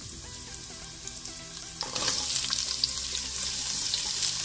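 Chopped celery hits hot oil in a pan with a sudden loud sizzle partway through. A steady, bright crackling frying sound continues close and unbroken to the end, after a quieter stretch at the start.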